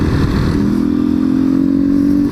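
A Honda XRE 190 motorcycle fitted with a BMW 310-style exhaust rumbles loudly up close on city streets, a steady deep idle that rises into a sustained drone.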